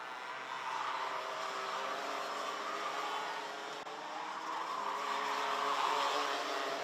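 Distant junior racing kart engines at Genk droning steadily, one kart's rough, noisy exhaust note rising and falling faintly as karts circle.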